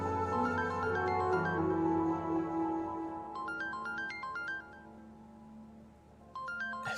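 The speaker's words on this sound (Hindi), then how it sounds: "एक सेकंड, मेरे घर से फोन आ रहा है।" Mobile phone ringtone in a Pakistani TV drama scene: a bright electronic melody of repeated stepping beeps that starts, pauses and starts again, playing over a sustained background music bed.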